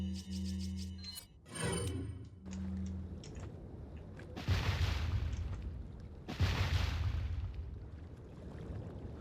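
Two heavy grenade blasts in a video game lake scene, each a sudden booming burst followed by a rumbling decay, preceded by short game sound effects.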